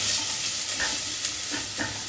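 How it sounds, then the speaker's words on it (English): Onions softening and just turning yellow in a pan while making a tomato soup sizzle steadily and fairly close, a continuous fine crackle with a few soft stirring scrapes and no voices. "Now, you see they're just beginning to turn a little bit yellow, sizzling quite nicely."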